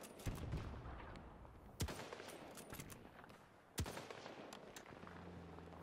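Gunfire in Battlefield 2042, quiet and scattered: a few sharp, distinct shots spaced a second or two apart over low background rumble.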